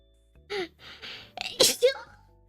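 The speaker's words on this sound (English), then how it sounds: "Wait, I'm gonna sneeze." One sharp sneeze, close and loud, preceded by a quick intake of breath.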